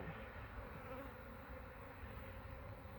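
Honeybees buzz at a busy, somewhat defensive hive, forming a dense, steady drone of many insects close by, quiet overall and continuous with no talk.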